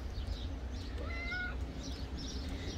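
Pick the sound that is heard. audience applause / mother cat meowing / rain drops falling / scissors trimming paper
mother cat meowing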